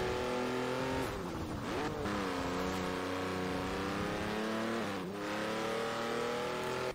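Lego car in Forza Horizon 4 accelerating hard, a loud continuous engine roar climbing through gear shifts with pitch dips between rising revs.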